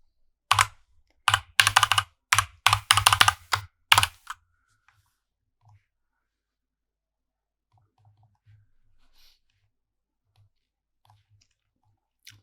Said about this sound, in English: we want to type temperature